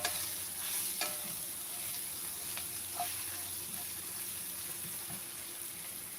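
Cowpea pods sautéing in a pan give off a steady, even sizzling hiss, with a few soft clicks and taps from stirring scattered through it.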